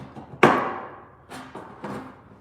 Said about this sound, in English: And then we can clamp the wire in it and hammer the wire around.